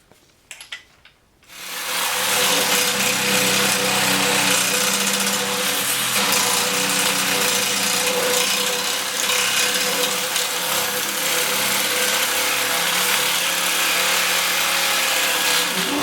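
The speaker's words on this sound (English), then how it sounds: "It's a lot of work for a little sawzall." A small Sawzall reciprocating saw cutting through a truck's steel rear bumper starts after a brief pause, then runs as a loud, steady, close buzzing grind that continues unbroken to the end.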